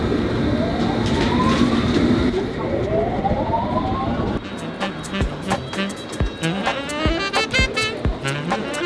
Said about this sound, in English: This is a Circle Line train via Liverpool Street and King's Cross and Pancras.